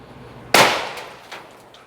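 A single sharp, loud 22-250 rifle shot cracks close by, fired over a chronograph, followed by a fading echo and a faint second report.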